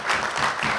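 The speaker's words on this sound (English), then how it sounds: "Let's give all the grandparents and parents a round of applause." A brief moment of audience applause for parents and grandparents at a Kiwanis scholarship awards evening, a short wash of clapping from a crowd.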